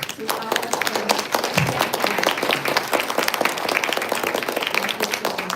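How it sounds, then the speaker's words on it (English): Audience applauding the panelists at a literature event: close, brisk, sustained clapping with distinct individual hand claps, with a brief low voice near the start. "Please give big applause to our panelists."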